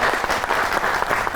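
Studio audience at a comedy talk show clapping in welcome for a guest, brisk, dense applause with individual claps audible, fairly loud throughout the brief burst.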